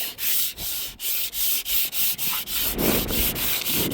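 Wet sandpaper scrubs guide coat off a fiberglass Humvee H1 hood in quick, even back-and-forth strokes, about ten rhythmic rasps heard up close with no talking.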